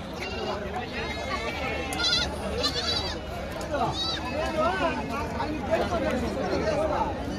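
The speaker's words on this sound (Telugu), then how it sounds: "దీంట్లో అయితే కూడా మేకలు పిల్లలు, చిన్న పిల్లలు అయితే ఉన్నాయి" Goats and young kids bleat repeatedly at a goat and sheep market, overlapping calls near and far beneath steady crowd chatter and people talking.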